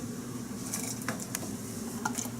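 Tortellini go into a pot of boiling water for spicy sausage soup, giving a few faint soft plops and splashes over a quiet, steady bubbling background.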